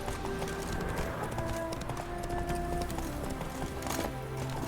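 Roach the horse gallops in The Witcher 3 with rapid, rhythmic clip-clop hoofbeats over a busy game soundscape with music, moderately loud and steady throughout.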